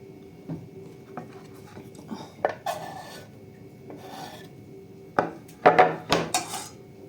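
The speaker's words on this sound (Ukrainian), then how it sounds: "Поріжемо моркучку" Knife chopping carrots on a board for a beet and apple salad, scattered light rasping cuts early, then a denser run of crisp chops and scraping near the end, close and fairly quiet.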